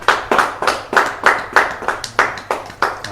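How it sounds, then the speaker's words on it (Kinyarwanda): An audience claps in a steady, rhythmic unison beat, about three claps per second, loud and close with no talk over it. "Dukoma amashyi menshi cyane."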